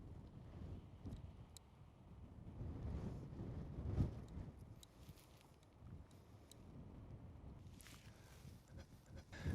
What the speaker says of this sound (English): this wind is really blowing here in West Texas